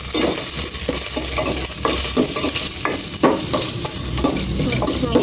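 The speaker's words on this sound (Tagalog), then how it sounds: "Naglagay na po si mama ng mantika at pumuputok na po yung kasirola" Ginger frying in hot oil in a pan, with a steady crackling sizzle throughout and frequent louder pops and stirring scrapes, close and fairly loud.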